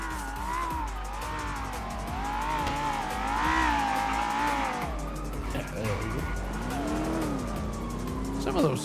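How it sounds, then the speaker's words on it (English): Sports car engines in the GTA NoPixel video game drone and rise and fall with a wavering, lawnmower-like tone, with tire squeals and skids, heard under ongoing talk. "Some of those sports cars sound like lawnmowers."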